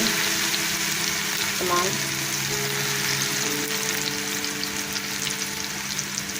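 Grated raw mango sizzles and fries steadily in hot oil for a quick pickle, a continuous close crackle with a brief stirring clatter partway through, a voice briefly heard over it.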